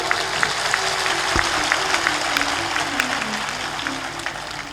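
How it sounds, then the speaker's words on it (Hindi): An audience at a spiritual discourse claps, dense sustained applause filling the room at moderate loudness with a few louder claps standing out, briefly under a faint voice. "जोर से ताली बजाओ।"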